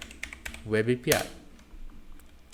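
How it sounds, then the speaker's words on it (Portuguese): A short run of computer-keyboard keystrokes, light clicks scattered across the stretch as a command is entered, heard close and fairly quiet around a brief stretch of someone speaking. "vou digitar o comando para criar a minha Web API"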